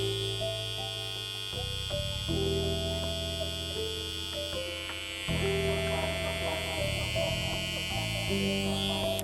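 A Supreme Trimmer electric hair trimmer buzzes with a steady tonal whine, switched on and off several times in short bursts of varying length, close and fairly quiet, with no talk.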